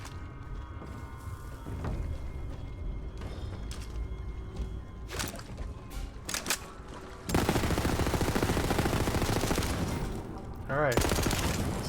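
Gunfire from a weapon in Borderlands 3, rapid automatic bursts of shots that come in waves and build into a loud, sustained fusillade late in the clip, layered over game sounds.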